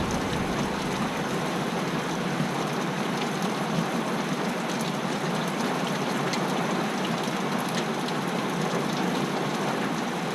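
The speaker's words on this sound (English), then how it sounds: "This must be the year we're gonna get a lot of rain, like it's monsoon season or something." Steady heavy rain falling outdoors in Ohio, a dense continuous hiss with occasional louder drops, even and unbroken throughout with no voices.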